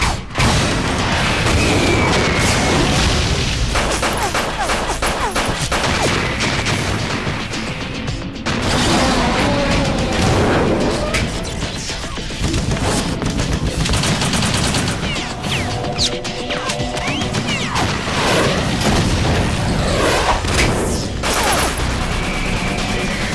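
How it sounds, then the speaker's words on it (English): Continuous heavy combat in Metal Gear Solid 2: rocket launcher blasts and explosions boom and crash among steady gunfire, loud and dense throughout, with no clear pauses. "a rocket launcher to the face won't bring them down"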